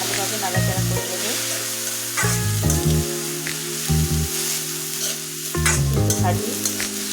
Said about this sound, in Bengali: যাই হোক, এটা আমি ভালোভাবে নাড়াচাড়া করে দেবো।